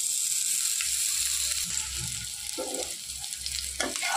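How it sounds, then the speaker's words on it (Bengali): Chopped garlic and onion fry in a pan with a soft, steady sizzle at close range. Occasional scrapes and light taps of stirring come through, with a faint hint of a voice in the background. "রসুন আর পেঁয়াজটাকে আমি ভালো করে ভাজা ভাজা করে নেবো"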